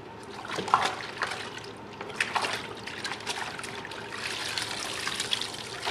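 Water trickles and splashes softly as a bird skin is washed by hand, with intermittent splatters and gentle dribbling throughout, fairly close and without talk.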